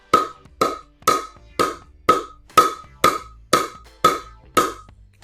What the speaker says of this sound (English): This is the sound of the Z5, the 11 millimeter with the graphite top.